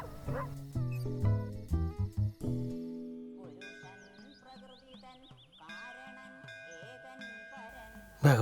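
A dog barking in a Hindi film scene, a few sharp barks and yips early on, then tonal music and background sounds continuing afterward.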